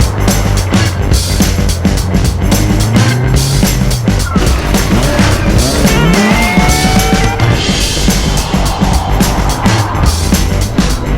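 A car in an autotest run sliding off on a corner, engine droning loud and close with bursts of tyre squeal and skidding throughout.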